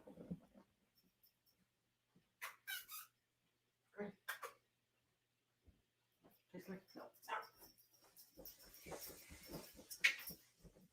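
A dog heard close up in a home, making short snorts, sniffs and soft whimpering sounds in scattered bursts, separated by quiet gaps, with someone talking faintly toward the end.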